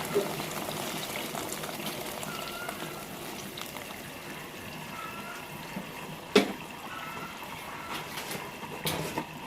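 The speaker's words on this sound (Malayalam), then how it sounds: "നല്ല തിളച്ച വെള്ളമാണ് നമ്മൾ ഈ അരിയിലേക്ക് വെച്ച് കൊടുക്കേണ്ടത്" Boiling water poured onto rice in a cooker pot for chicken biryani, a continuous watery rush and splash close by, with a sharp knock of a vessel partway through and a few faint clinks.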